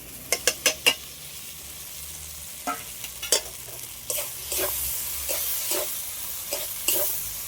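Fried potatoes are stirred into tomato masala in a pan: a quick run of sharp spoon scrapes and clacks, then gentler stirring strokes over a constant close sizzle of frying. No one speaks.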